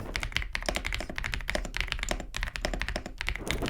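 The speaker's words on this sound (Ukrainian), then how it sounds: "Не можу не відзначити звук при друкуванні." Typing on an AJAZZ AK820 MAX mechanical keyboard with a screen produces rapid, close, clacky keystrokes in an uneven stream, with deeper thocks mixed in and no speech over them.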